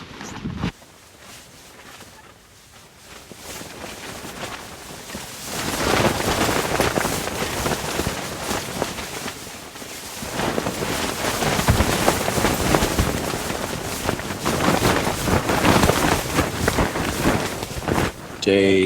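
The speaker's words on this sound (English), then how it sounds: "It's kind of a windy day here in the Badlands." Strong wind in the Badlands buffets the microphone in a continuous roar that swells after a quieter start and stays loud throughout.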